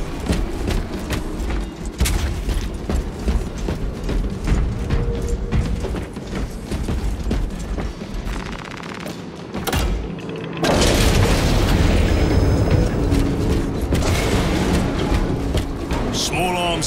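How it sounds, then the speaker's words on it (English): Close small arms fire in Space Marine II on maximum difficulty, heavy and continuous with booming impacts and mechanical clatter, the volume climbing sharply partway through and staying dense to the end. "Small arms fire. It sounds close."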